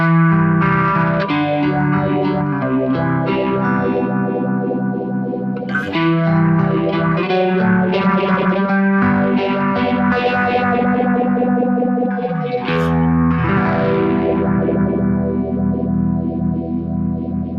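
An electric guitar played through a Univibe-style modulation effect on a Kemper Profiler rings out in loud distorted chords and bends with a swirling, pulsing chorus-like wobble and echo.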